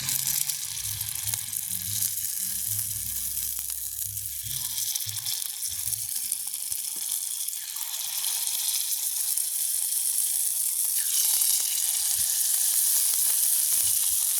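Kundu dosa batter sizzles and crackles steadily in sesame oil in a pan, a constant close frying hiss with occasional low clinks and no talking.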